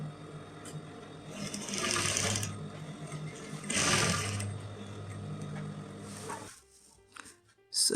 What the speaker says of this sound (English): We run a stitch like this,